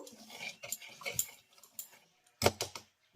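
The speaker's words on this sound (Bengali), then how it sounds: "এবার আমি এই সমস্ত উপকরণগুলো প্রথমে একবার ভালো করে মিশিয়ে নেব" A spoon clinks and scrapes in a bowl while mixing powdered milk and batter ingredients for Bengali patishapta, a run of light irregular taps and stirs, close and fairly quiet.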